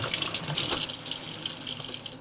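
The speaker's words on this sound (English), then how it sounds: "you turn on the water and rinse off the filter" Tap water runs steadily into a sink while a Eureka Blaze vacuum filter is rinsed under it, a close, continuous splashing rush with slight shifts in texture as the filter moves, then a sudden stop.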